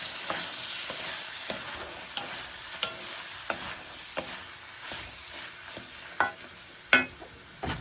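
A spatula stirs seafood with tomatoes in a sizzling frying pan, with regular scraping strokes and light clacks against the pan over a steady frying hiss, close and alone.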